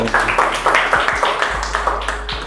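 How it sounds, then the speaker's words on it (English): Scattered clapping from a classroom group, a few dozen sharp claps in a loose uneven rhythm, close and fairly loud, with a low steady hum underneath. "can we give him a big round of applause?"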